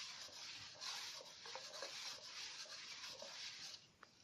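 A sharpening stone is rubbed back and forth along a speed skate blade, making a close, dry, hissing scrape in steady strokes with small clicks between passes.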